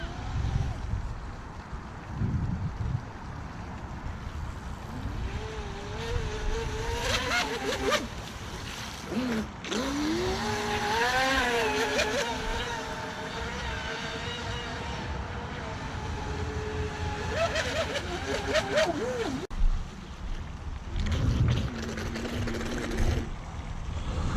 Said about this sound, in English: The new motor works very good.